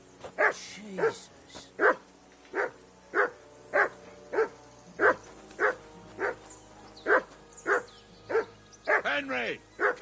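Dog barking steadily in Kingdom Come: Deliverance II, a dozen or so evenly spaced sharp barks at close range, with voices speaking between and over them and a whine near the end.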